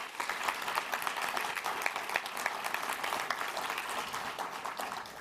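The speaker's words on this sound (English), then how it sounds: "Let's give a big round of applause for John" Fairly quiet, steady applause from an audience at a community event, honoring a man being congratulated for years of service to the county. Many hands clap in a continuous, even patter at a moderate distance.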